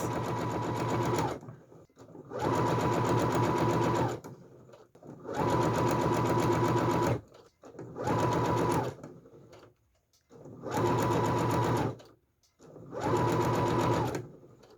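Singer HD6805 sewing machine stitching bias tape around a fabric leaf mat, running in six steady bursts of a few seconds each with short pauses between them, close and loud, no talk.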